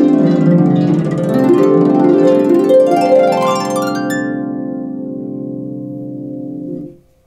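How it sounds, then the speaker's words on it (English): Harp with levers set to a pentatonic scale, played in overlapping glissandos: dense cascading string sweeps layered over one another, then a long resonant ringing decay, close and alone. "The third type of glissando I'm going to show you today is what I call an overlapping glissando"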